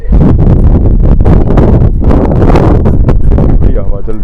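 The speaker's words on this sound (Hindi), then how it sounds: "बढ़िया हवा चल रही है।" Strong wind buffets the microphone outdoors in Dwarka, loud continuous gusty roaring and rumbling that fills the whole stretch, dominating everything close up.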